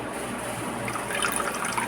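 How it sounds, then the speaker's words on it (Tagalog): A little water is poured into a pan of green beans while they cook, giving a steady, close liquid hiss and splash with no talking. "Maglagay ako ng kunting tubig. Kunting-kunti lang."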